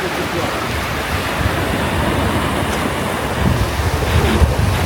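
Sea waves on a wild beach in Turkey give a continuous, broad wash of surf mixed with wind buffeting the microphone, steady and fairly loud throughout.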